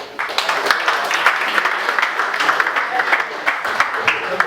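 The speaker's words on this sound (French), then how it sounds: "On peut encore applaudir pour pouvoir vous encourager." Audience applause at an awards ceremony honouring a dental surgeon, heard as dense, steady clapping from many hands that holds through the whole stretch without speech.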